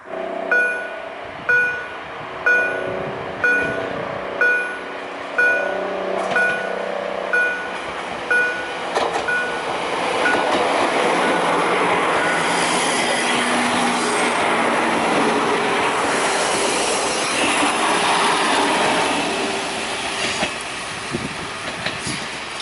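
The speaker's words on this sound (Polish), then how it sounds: "nie byłbym chyba do końca sobą, gdybym nie poczekał na ten pociąg" A train rolls past on the tracks with rhythmic clickety-clack from the wheels, building into a loud, continuous rumble and roar that fills the rest of the clip.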